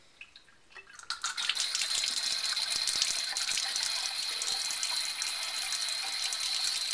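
Water pours steadily through a Vinturi venturi wine aerator with a bright, hissing, airy gurgle that rises quickly and holds loud and close.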